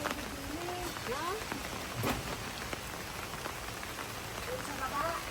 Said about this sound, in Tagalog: Kumbaga marami pang ulan, ha?